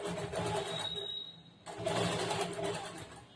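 A sewing machine stitches a churidar top in two steady motor runs separated by a brief pause, a close, even whirring hum with a thin whine at the start.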